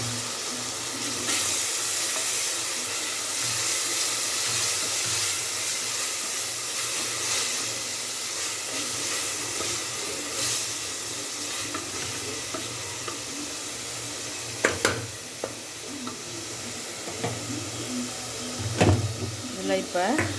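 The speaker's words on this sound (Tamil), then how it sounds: "இதில் இப்போ இஞ்சி பூண்டு பேஸ்ட்டை ஊற்றி பச்சை வாசம் போகிற வரையும் வதக்கிக்கலாம்." Ginger garlic paste sautéing in a pan for a mutton radish curry, a steady soft sizzle with a faint steamy hiss and occasional sharp spatula scrapes and clinks, close by, no talk.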